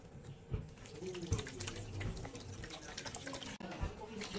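Water pours steadily from a tap or container into a mixing vessel while making homemade liquid detergent soap, a faint continuous splashing trickle with some clunks and light talk.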